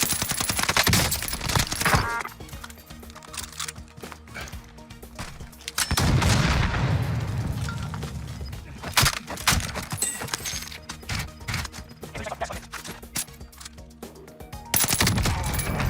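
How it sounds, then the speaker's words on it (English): Video game gunfire rings out in rapid bursts and sharp single shots, loud and close, with volleys clustered near the start and the middle and scattered cracks in between. "Taking shots."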